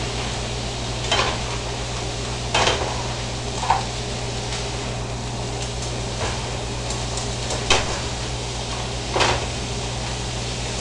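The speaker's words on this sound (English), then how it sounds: "We're just going to stir fry it on high heat" Food stir-fries in a pan over high heat, a steady sizzle running throughout with a spatula scraping and clacking against the pan every second or so.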